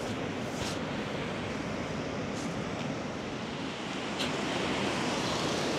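Waves rolling onto a rocky beach at Castlerock in late February, a steady broadband surf wash with wind, moderately loud and continuous, with a few brief sharper splashes and no voices.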